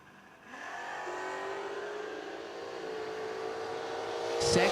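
Drag race cars launching side by side at a footbrake drag racing event, with a Mustang in the right lane; engines roar steadily and rise in pitch as they pull away, ending with a sharp louder burst near the close.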